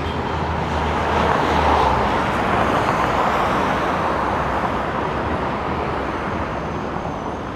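Dense city street traffic in Buenos Aires near a mid-street bus platform, with cars and buses rumbling past in a steady, loud roar that never lets up.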